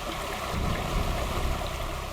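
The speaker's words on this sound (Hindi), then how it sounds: "वाटरफॉल कितना सुंदर है" Waterfall pouring steadily, a broad, constant rushing roar with no gaps or voices over a short stretch.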